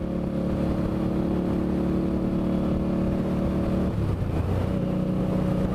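Indian motorcycle engine revving loudly and close, a steady rumbling drone that shifts in pitch partway through, with no talking.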